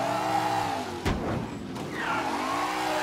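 A car engine resembling an AC Cobra in the video game Mafia 3 hums steadily, then revs sharply with a brief burst before settling back into a rising, rumbling drive.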